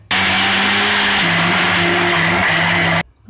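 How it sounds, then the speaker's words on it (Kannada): A mixer grinder blends ginger and garlic into a paste with oil, its motor roaring steadily and loudly for about three seconds before cutting off abruptly. "ಈಗ ಇದನ್ನ ನೀಟಾಗಿ ಮಿಕ್ಸಿನಲ್ಲಿ ಬ್ಲೆಂಡ್ ಮಾಡ್ಕೊಳ್ಳೋಣ"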